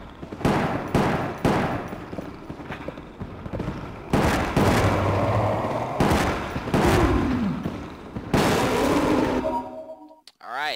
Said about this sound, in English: so 5 shots from the SIG Pro